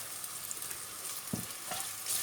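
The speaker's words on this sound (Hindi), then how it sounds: "अब इसको थोड़ा फ्राई करते हैं इंशाल्लाह।" Onions fry in oil inside a pressure cooker over a full flame, giving a steady, soft sizzle with a brief scrape of stirring partway through.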